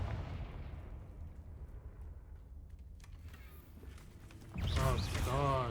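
Blasting-spell explosions in the Hogwarts Legacy video game thud as a low, continuous rumble with a few sharp cracks, before a voice speaks over the din near the end.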